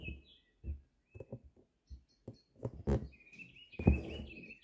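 Small birds chirp with thin high tweets in the background, intermittent and moderately near, among soft tapping and rustling from embroidery work.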